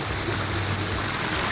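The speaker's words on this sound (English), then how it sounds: "Check out our little creek right here." A small creek flows steadily at a rest stop near the Boar's Nest on a motorcycle trip to the Sturgis rally, a broad, continuous rushing wash of water close by with no talk.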